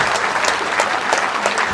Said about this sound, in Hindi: अनथक तालियां होनी चाहिए